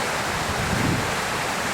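Water pours steadily from beneath a culvert, a continuous broadband rush that holds nearly constant in level throughout, with no voices present.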